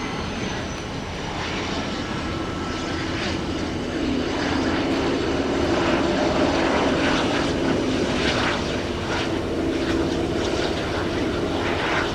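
A business jet flies over near Highway 75 from Naples, Florida, a loud sustained engine roar that holds steady and builds slightly midway, with no talking.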